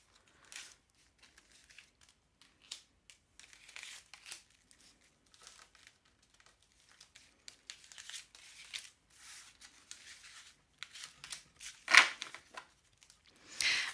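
Tarot cards are handled and laid out on a table, producing soft, intermittent crinkles, slides and light taps close by, with a sharper card flick near the end amid quiet pauses.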